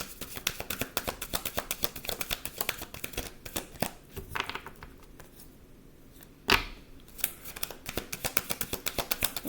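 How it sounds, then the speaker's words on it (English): A deck of cards being shuffled by hand over and over, a steady run of quick close taps and riffles with a couple of brief pauses and one sharper slap. "I'm going to shuffle."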